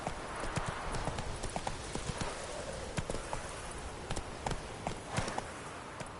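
Galloping horse hooves from The Witcher 3 video game, a steady rapid clip-clop of hoofbeats running throughout, with occasional short sharp accents over a busy background.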